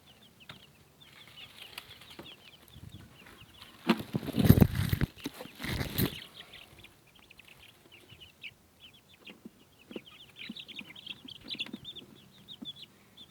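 Chickens cluck softly and intermittently while being put away in a bucket, with a burst of wing flapping and scuffling partway through, close by and with no talk.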